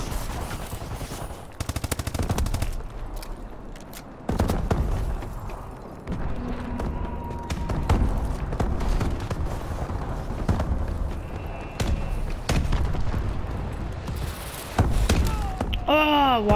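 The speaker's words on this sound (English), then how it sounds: "They got more walker tanks." Walker tanks in Call of Duty Advanced Warfare bring rapid machine-gun bursts, heavy thuds and slams, loud and repeated across the scene.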